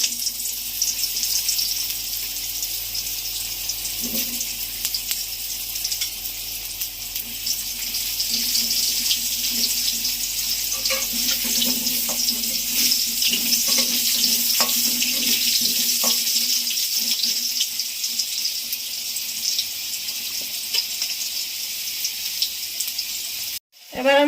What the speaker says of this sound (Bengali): তেলে এবার আলু দেব।